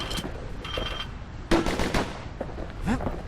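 Dual slinger pistols fire in Bastion, a few sharp shots in quick bursts with ringing tails, spaced across a short stretch with game effects between them.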